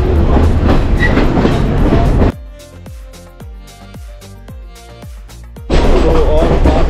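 A train running from Kandy to Nanu Oya through Sri Lankan tea country roars loudly, drops to a steady rhythmic clickety-clack of wheels over rail joints, then swells back into a heavy rumble.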